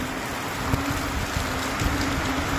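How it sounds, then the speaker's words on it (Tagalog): Heavy rain during a windy storm in Bicol, a steady broadband wash with occasional louder drops and gusts, continuous and fairly close. "lakas ng ulan."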